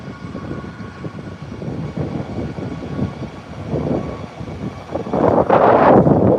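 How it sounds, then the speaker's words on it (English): A CRJ jet taxis toward the runway threshold for takeoff, its engines giving a steady, fairly loud whistling whine over a rumbling roar that builds toward the end. "Those whistling CRJ engines."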